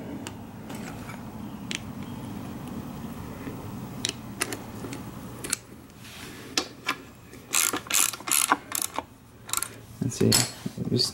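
A hand ratchet screwing a part down on a Ford F150 vacuum pump, clicking in short quick bursts that grow louder and denser toward the end, close up over a quiet background.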